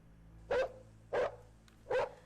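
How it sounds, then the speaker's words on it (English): Dogs bark in the distance in the London Detective Mysteria game, three separate vigorous barks spaced evenly about half a second apart, with quiet hum between them. "We heard in the distance the vigorous barking of the dogs"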